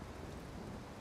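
Rain falls steadily in a video game, a dense even hiss of broadband noise at low volume with no voices over it.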